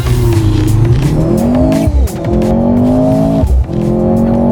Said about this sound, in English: Now we're gonna launch this thing